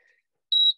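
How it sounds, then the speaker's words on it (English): A workout interval timer gives a single short, pure electronic beep about a fifth of a second long, clean and isolated against silence after a faint tone at the start. "There's your beep."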